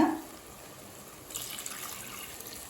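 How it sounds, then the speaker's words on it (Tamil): After a quiet moment, two cups of water pour into a cooking pan of rice and salt for mint rice, with a soft, splashy trickle that continues steadily, close by. "இப்போ அடுத்தது இது கூடவே 2 கப் தண்ணி சேர்த்துக்கலாங்க."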